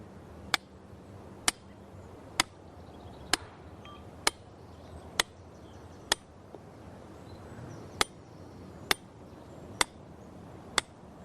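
A hammer beats an iron wedge into rock to split off a slab. About a dozen sharp metallic strikes ring out, spaced roughly a second apart with a short gap midway, over faint outdoor background.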